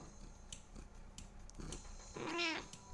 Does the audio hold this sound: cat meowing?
yes